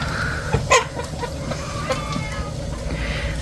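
A Marans-Americana cross chicken clucks close by in a farmyard, with a short burst of sharp clucks near the start over steady low background noise.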